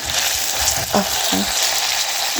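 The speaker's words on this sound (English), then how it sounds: "So at this point we are frying the meat." Steady, loud sizzling of goat meat frying in a pan with onion and tomato fills the clip, with a few faint clinks of stirring breaking through.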